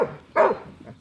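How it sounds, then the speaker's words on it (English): A young working dog gives a single sharp, close bark, loud and full, with a faint softer yelp trailing after it. "Since then, she's found her noise and now boasts a more powerful bark."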